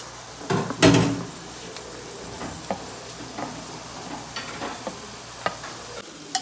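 A spoon stirs fried masala and sautéed vegetables in a pan over a soft, steady sizzle, with a couple of louder scrapes at the start and faint clinks later.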